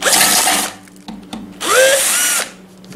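A small Dremel rotary tool drills into a violin in two loud, close bursts of high whining buzz, the pitch rising in the second, with a short quiet pause between them.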